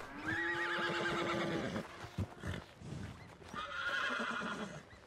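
A horse in Red Dead Redemption 2 gives a loud, close whinny, then snorts and stamps with hoof clops. A second shrill neigh follows near the end, with no voices over it.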